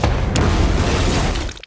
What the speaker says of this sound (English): You arranged fireworks!